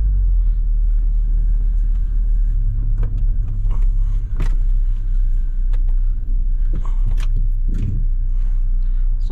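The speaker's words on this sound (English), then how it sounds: "Let's let this big truck go." A big truck passes close by on a road beside a junk pile, giving a loud, sustained low engine rumble with rattles and clanks as it goes past.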